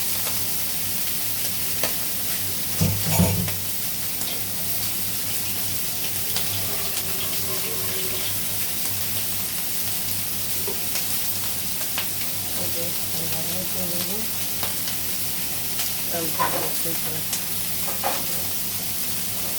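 Dry-roasted masala with garlic, green and red chillies and ginger is stirred in a pan, giving a soft continuous sizzle with occasional scraping clatters. The sound stays close and low over steady background noise.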